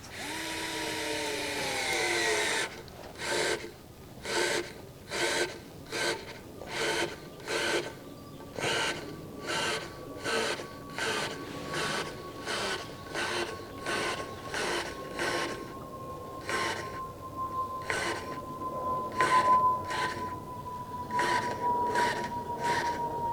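A cordless power tool on its second, stronger torque setting drives in with about twenty short bursts of whirring, repeatedly stopping and restarting in a steady rhythm, loud and close, with a rising whine running underneath and no talk.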